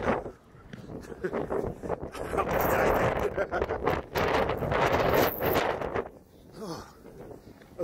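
Wind buffets the microphone in heavy, rumbling gusts that swell and drop, with bits of speech breaking through.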